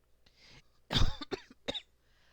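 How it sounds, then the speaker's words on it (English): A few sharp, raspy coughs in quick succession, close to the microphone, in an otherwise quiet setting. "I'm also not editing out my coughs."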